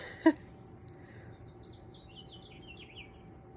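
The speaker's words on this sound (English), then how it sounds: "You guys can hear the birds outside my window." Faint, high bird chirps drift in from outdoors over a steady low hum, with one brief louder knock near the start.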